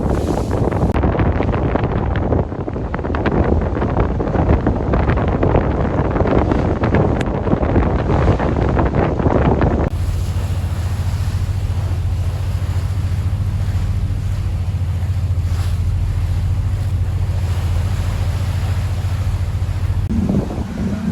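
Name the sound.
boat floating down the Amazon River with wind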